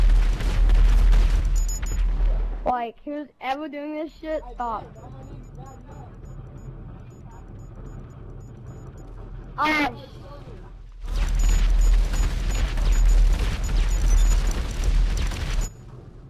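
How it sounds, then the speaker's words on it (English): Repeated booms and bursts from explosions in a video game rumble loudly at the start and again near the end, with a player's voice talking in between. "There's like infinite fucking explosions like behind my ass."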